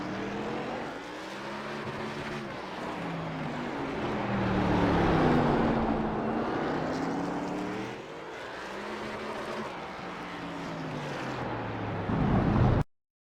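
A NASCAR Next Gen race car engine drones and revs around the tight LA Coliseum track in iRacing, with pitch rising and falling through repeated shifts and corners, loud and continuous, cutting off abruptly at the end.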